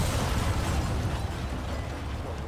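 Grenade explosion in the military shooter game Arma 3, a loud, dense rumbling blast that fills the whole moment and slowly decays, with no talking.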